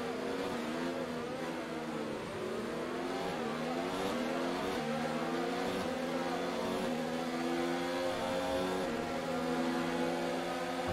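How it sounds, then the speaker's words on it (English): A Mercedes Formula 1 car races in the video game F1 2019. Its high, whining engine rises and drops through quick gear shifts, steady and moderately loud over continuous race noise, with no talking. "The Mercedes sounds so smooth up there."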